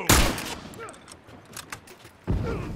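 Gunfire in a shooter video game comes as sharp loud bursts at the start and near the end, with scattered fainter shots and brief talk between them.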